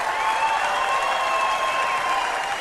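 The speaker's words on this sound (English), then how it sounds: "NASCAR crowd." A large NASCAR race crowd applauds and cheers in a steady, dense roar of clapping that holds evenly at full volume throughout, with no speech over it.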